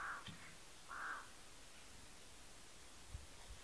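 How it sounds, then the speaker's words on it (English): A couple of distant crows caw on the coast, two short hoarse calls near the start, then only a steady wind-like hiss with faint rustling. "The crows,"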